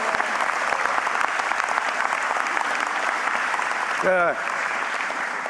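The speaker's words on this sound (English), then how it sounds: "give all yourselves a round of applause" An audience at an airport industry forum gives a sustained round of applause, dense and steady clapping throughout, with a voice briefly calling out over it near the end.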